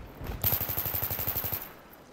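Rapid automatic gunfire in a first-person shooter video game, one fast burst of about a dozen evenly spaced shots lasting just over a second, loud and close, then fading out.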